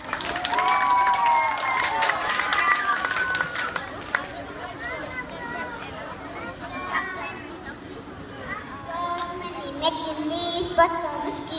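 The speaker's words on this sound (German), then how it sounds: "einen großen Applaus" A crowd at a children's singing event in Germany claps and cheers, a busy wash of clapping and chatter with kids' voices mixed in, tapering slightly midway before swelling again near the end.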